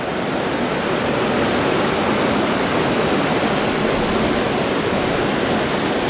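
A river in Montana and Idaho's Bitterroot Mountains rushes steadily, a dense, even broadband roar of flowing water that fills the whole stretch at close range with no voices.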